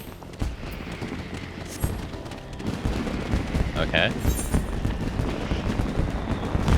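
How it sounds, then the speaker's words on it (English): A rapid, crackling barrage of fireworks bursts in Final Fantasy XIV, with dense overlapping pops and booms at moderate loudness, while a voice speaks briefly over them. "And they are going ham with these fireworks."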